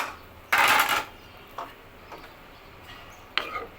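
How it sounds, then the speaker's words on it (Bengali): A spoon stirring dal in a cooking pot after the spiced tempering goes in: a loud metallic scrape and clatter, then a few lighter clinks spaced apart, with no one talking. "বাগারটা দেওয়ার পরে এরকম একটু নেড়ে চেড়ে দিবেন"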